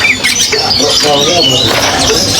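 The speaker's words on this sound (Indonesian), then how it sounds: "di sini juga ada yang namanya burung tepus" A grey-headed babbler gives loud, shrill squawking calls in quick succession, close and continuous, without pause.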